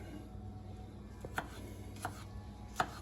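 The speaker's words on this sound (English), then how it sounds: "I really like my French fry cutter here." A French fry cutter slicing through potatoes, three sharp, separate chopping thuds spaced under a second apart, fairly close and clear over a quiet background with no talk.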